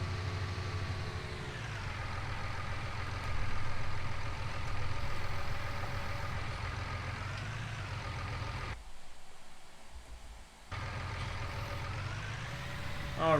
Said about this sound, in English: we might as well park this tractor in the shed here